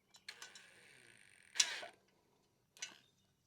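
A bolt on a vertical bike rack is tightened down, producing a few sharp close ticks and creaks followed by a longer grinding squeak and one more short burst, with quiet between.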